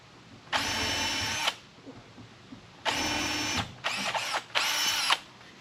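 Power drill boring pilot holes near the edge of wood on a barrel sauna, four close, loud whirring bursts of a second or so each with short pauses between.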